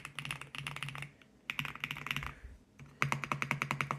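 Close, crisp clacking of typing on an Sk71 Pro mechanical keyboard comes in three quick bursts of rapid keystrokes separated by brief pauses, with no talking.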